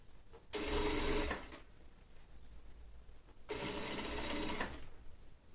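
A sewing machine stitches an underarm seam on a lined child's jacket in two bursts of about a second each, with quiet handling noise in between.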